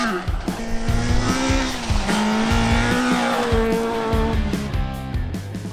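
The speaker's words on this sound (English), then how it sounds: "George van Balen and Dion Slubbert fly through" A rally car tears through a stage at the Algoa Scribante Rally, its engine loud and close, revving up and down through gear changes while the tires squeal and skid.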